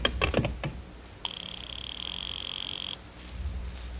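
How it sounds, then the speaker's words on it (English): A house phone rings as a radio drama sound effect: after a few quick clicks of dialing, a single steady electronic ring tone sounds for about two seconds at moderate level, then stops, with no voices. "I'll just ring him on the house phone."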